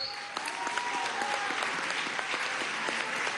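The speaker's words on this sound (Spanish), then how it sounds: "Un aplauso." A youth congress crowd claps in a large hall, a dense, moderately distant patter with some rhythmic claps mixed in and a faint tonal hum running underneath.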